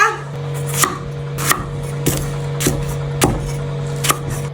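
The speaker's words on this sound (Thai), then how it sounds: "หั่นมะเขือ" A knife chops eggplant on a cutting board in steady, evenly spaced strokes, about one every 0.6 seconds, against a faint background hum.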